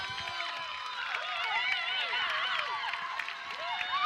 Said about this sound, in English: Got to hear a lot of cheering here from the Wheaton fans behind us.